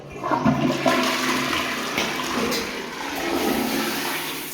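A toilet flushes nearby, a rushing swirl of water that keeps draining steadily and then gurgles without fading out.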